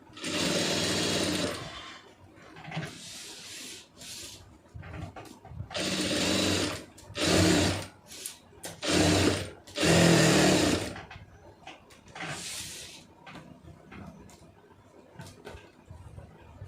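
Sewing machine stitching an aari blouse in a tailoring class, running in loud, steady bursts that stop and start several times, with pauses between runs.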